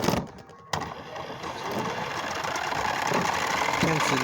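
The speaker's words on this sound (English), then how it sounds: "Now let's just turn on the motor real quick." Small motor on a Beyblade Burst toy whirs into life after a brief clunk and runs as a steady close buzzing drone, with faint speech at the start.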